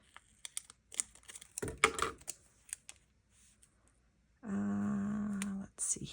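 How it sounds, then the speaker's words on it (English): Paper being cut with scissors for a Hobonichi Weeks planner, a run of close, crisp snips and rustles, then a steady sustained tone toward the end. "let's see how straight I can cut it"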